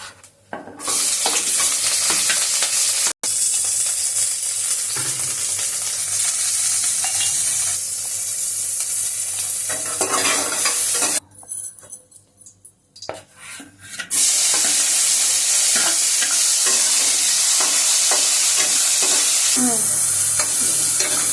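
Black cumin seeds tempering in hot oil in a wok for an egg curry, a loud continuous sizzle with steady stirring scrapes, briefly dropping away midway before the frying returns at full strength.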